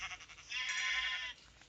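A Minecraft sheep gives one quiet, drawn-out bleat with a wavering tone. Soft game ambience surrounds it, and no one speaks.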